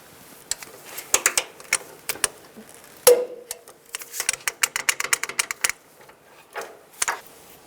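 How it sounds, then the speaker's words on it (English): A torque wrench ratchets and clicks while tightening upper control arm bolts on a 2005-15 Nissan Xterra. Crisp, close metallic ticks come in irregular quick runs, with one sharper click partway through, and there is no talk. "I'm going to torque these bolts to 94 foot-pounds."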